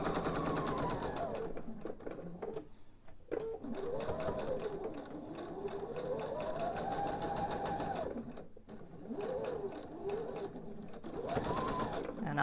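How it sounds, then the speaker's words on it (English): Sewing machine stitching a scant quarter-inch seam joining quilt pieces, a fast steady whirring hum that runs in long stretches with short pauses and speed changes. "hold my stiletto, and sew my 1/4 seam"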